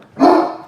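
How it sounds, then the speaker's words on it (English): A pet dog gives one short, loud bark close by, with no talk over it. "Sorry, my dog's barking."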